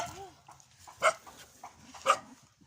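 A dog lets out two short, whining howls about a second apart, fairly close and loud against a quiet background.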